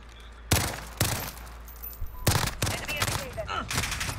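Renetti burst pistol firing in Modern Warfare: several sharp shots in quick pairs and bursts, loud and close, with game effects and faint voice chat underneath.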